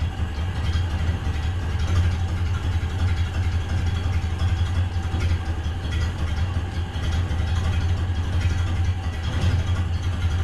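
A Ford Model A barn-find engine idles low and steady, a continuous close rumble with a rhythmic pulse and no talking over it.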